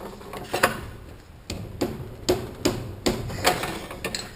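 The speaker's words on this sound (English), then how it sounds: "Pushing in with a bigger bushing, a bigger installer" A bushing for a 4L80E transmission overhaul is driven in with an installer tool, giving about ten sharp metallic taps at uneven intervals, close and without talk.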